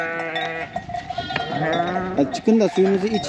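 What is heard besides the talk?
sheep bleating in the snow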